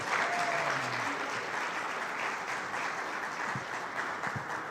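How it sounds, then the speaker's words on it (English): An audience at a health ministry certification ceremony applauds in a steady, even roar of many hands clapping. It holds at the same level throughout, with no voices over it. "So please give them a round of applause."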